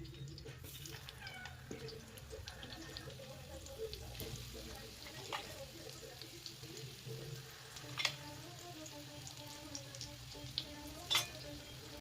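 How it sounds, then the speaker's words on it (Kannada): Fish coated in rava frying in a pan in a home kitchen, with a soft steady sizzle throughout and a few faint clinks and stirring sounds, no talking. "ಇವಾಗ ಫ್ರೈ ಮಾಡ್ತೀನಿ"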